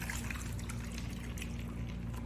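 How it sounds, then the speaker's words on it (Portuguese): Water pours into a bowl of ice holding a can, a steady, close, continuous splashing flow with no break and no talk. "água até cobrir a lata."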